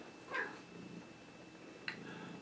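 A house cat meows softly twice behind the speaker, two brief faint calls about a second and a half apart over quiet room noise.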